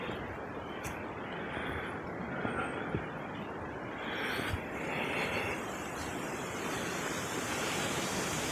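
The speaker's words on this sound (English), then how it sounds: "Man, it is windy." Steady strong wind blows across open backcountry woodland, a continuous broadband roar with gusts swelling around the middle and end, constant and fairly loud with no voices.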